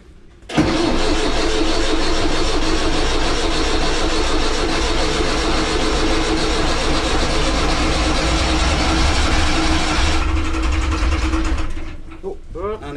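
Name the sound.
sailing yacht engine running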